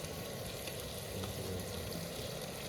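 Oil sizzling in a pan while cooking biryani, a dense continuous crackling hiss, close and even in level throughout, with no voices.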